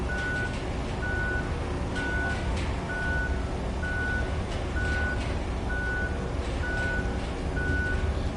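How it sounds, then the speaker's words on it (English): Truck reversing alarm in the video game Roadcraft: a steady, evenly spaced beep repeating about once a second over a loud, constant engine drone, with no other sounds breaking through. "And beeping's doing my head in."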